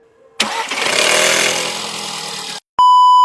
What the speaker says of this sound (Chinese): 客户就因为这个声音找见我们，通过我们检测就是这是链条拉长导致的